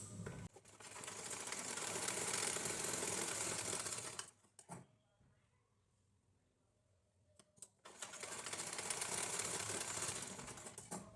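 An electric sewing machine stitching a lining blouse whirs in two long, steady runs, separated by a quiet pause with a few brief clicks.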